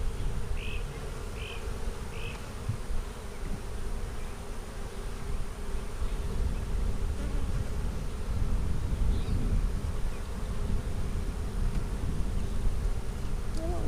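Honey bees buzz steadily around an open beehive during a spring inspection, a dense continuous hum close to the microphone, with faint voices nearby.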